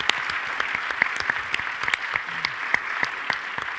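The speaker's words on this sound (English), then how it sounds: "I think that deserves a round of applause." Audience applause at a Canadian Club event, a steady round of clapping with sharp individual claps standing out, fairly close and continuous for about four seconds.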